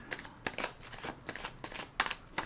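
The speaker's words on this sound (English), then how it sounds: "Let me get started by shuffling." Tarot cards are shuffled close up in a rhythmic series of quick riffling bursts, about six or seven crisp flurries over a couple of seconds.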